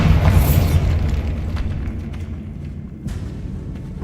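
A Bombarda spell explodes inside a tomb in Hogwarts Legacy, giving one loud, close boom that dies away into a rumbling tail, followed by a smaller burst near the end.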